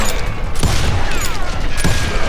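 Game gunfire from a crouched position in the Western shooter Gunslinger, a steady rumble of shots with a couple of sharper bursts against a busy, loud background.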